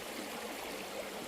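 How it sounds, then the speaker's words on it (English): A stream runs steadily beside a wild camp at Innerwick Castle in Scotland, an even broadband rush of flowing water, moderately close and unbroken, with no voices. "Lovely sound of the water running behind."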